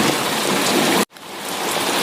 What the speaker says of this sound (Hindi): तभी अचानक से जोरों की बारिश शुरू हो गई।